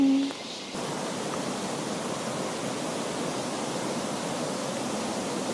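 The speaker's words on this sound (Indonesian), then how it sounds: "di tengah perjalanan kita ketemu sama air terjun yang pertama." A waterfall along a jungle trail in West Sumatra rushes in a steady, broadband roar, constant and fairly close, after a brief tonal sound at the very start.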